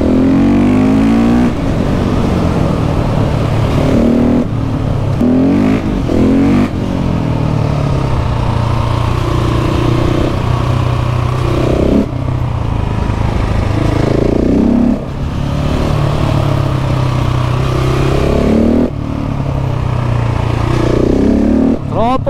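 A KTM 690 SMC R supermoto engine roars steadily at high revs on a mountain road, pitch rising and falling with gear changes, while someone talks excitedly over it throughout.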